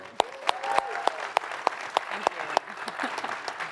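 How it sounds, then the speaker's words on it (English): Applause at a live Microsoft Build coding show for a Dev Containers Frogger project, a steady crowd of clappers with regular sharp nearby claps cutting through, and a faint voice underneath. "let's get a round of applause for Dev Containers Frogger here."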